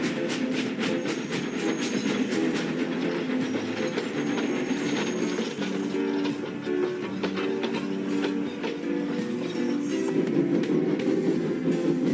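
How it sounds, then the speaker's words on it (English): A video game train in a Roblox remake of Thomas the Tank Engine rumbles steadily with rhythmic clattering wheels and a faint hiss, moving continuously without pause, no voices. "The heavy train drew out of the platform."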